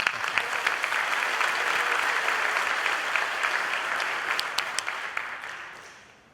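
Audience applause at a high school awards night, a steady dense crowd of clapping that gradually thins and tapers off toward the end.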